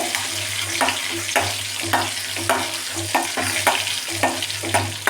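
Finely chopped large onions crackle and sizzle in hot oil, a loud continuous fry broken by repeated scraping stirs at a steady rhythm.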